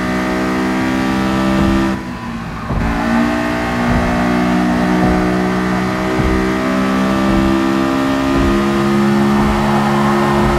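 Honda VTEC engine in Gran Turismo Sport on the Shuto Expressway, holding high revs with a steady, loud harmonic drone and a brief dip near the two-second mark as it shifts, then pulling on continuously.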